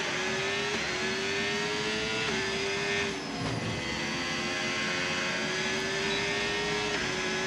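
A race car in qualifying driving smoothly through corners, its loud engine holding a sustained high whine with brief dips at gear changes and lifts, close and continuous throughout.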